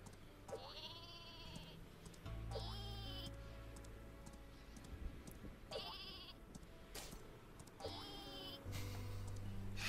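The sheep weapon in Worms W.M.D. bleats repeatedly, four loud cartoonish baas spaced about two seconds apart over a low game rumble and light ticking.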